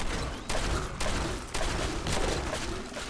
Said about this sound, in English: Or I can shoot them all with my shotty.